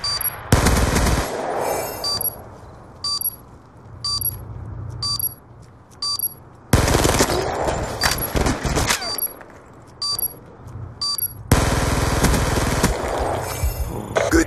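Bursts of automatic gunfire from Call of Duty: Black Ops 2 multiplayer, loud rapid volleys in three long stretches with sharp high clicks and short single shots between them.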